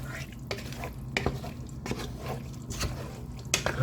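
A spoon stirs diced tomatoes and broth into a simmering potato curry in a pot, giving a run of wet scraping strokes with a soft sizzle underneath.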